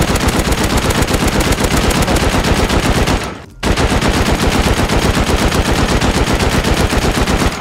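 Sustained automatic gunfire from the video game Rust, rapid loud bursts filling the whole stretch with a brief silent gap near the middle before firing resumes just as heavily.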